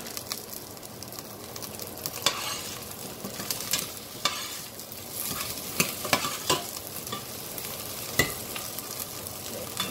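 Okra added to onions already cooked for a minute sizzles steadily in a hot pan, with repeated scraping and stirring strokes over the frying hiss.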